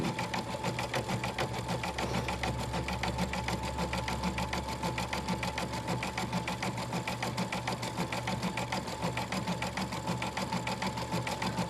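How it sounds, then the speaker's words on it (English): A Baby Lock Altair 2 sewing and embroidery combo machine running steadily, its needle stitching a decorative pattern around batting with a fast, even mechanical rhythm throughout. "So while that's stitching, let me talk to you a little bit about the Altair 2. So this is a sewing and embroidery combo machine."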